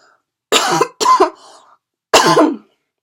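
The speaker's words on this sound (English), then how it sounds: "I need to take a moment to cough" Three sharp coughs ring out close by, two in quick succession and then a single one after a short pause, with silence around them.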